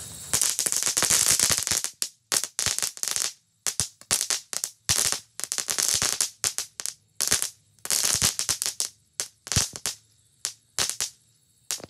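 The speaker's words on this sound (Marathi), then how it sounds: "सर्वात मोठा बॉम्ब वाजवायला घेतलाय, म्हणजे एक लढत वाजवायला घेतली." Large firecracker bombs bursting during Diwali celebrations, a rapid string of sharp, loud cracks and bangs that crackle in dense bursts with brief gaps, continuing unevenly throughout without talk.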